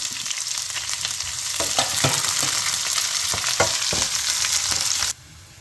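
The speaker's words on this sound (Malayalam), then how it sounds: "അതിലേക്ക് ഞാൻ കുറച്ച് സബോള ഇട്ട് വഴറ്റുന്നു" Onion sautéing in a pan with curry leaves and dried chillies, a steady close sizzle and fry hiss with scattered stirring clicks and scrapes, cutting off sharply near the end.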